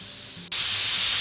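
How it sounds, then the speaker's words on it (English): A pressure canner on an outdoor propane burner breaks into a loud, steady hiss of venting steam partway through, jumping up from a quieter background and holding strong to the end. "the canner, it has started to actually vent, and you can kind of see the level of steam that you're looking for"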